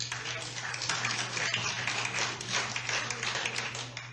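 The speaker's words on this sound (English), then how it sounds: "Please respect the committee. Do not applaud." Audience applause at an EU committee hearing, a dense sustained patter of many clapping hands filling the room at moderate distance, with a steady low hum underneath.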